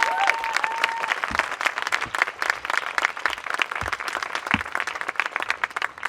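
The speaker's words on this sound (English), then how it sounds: "Big round of applause." An audience at the UHart Land Acknowledgement Ceremony breaks into sustained applause, a dense wash of many hands clapping at close range that carries on throughout at a fairly even loudness.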